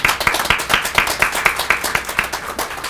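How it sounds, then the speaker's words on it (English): Rhythmic clapping at a burn unit staff celebration, distinct regular handclaps forming a modest round of applause, close and steady with no voices over it. "just let's give all of you a round of applause"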